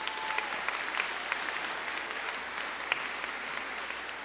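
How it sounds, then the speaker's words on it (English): A high school graduation crowd gives a round of applause, dense and steady clapping from many hands filling a large space, with a few sharper claps standing out. "we should all give her a round of applause"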